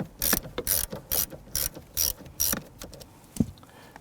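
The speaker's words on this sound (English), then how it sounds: "We're going to use a 10mm socket to loosen the ground terminal here." A 10mm socket ratchet loosens the battery ground terminal on a 2011-2021 Jeep Grand Cherokee 3.6L V6, giving a run of close, crisp ratcheting bursts in an uneven rhythm, with one sharper knock near the end.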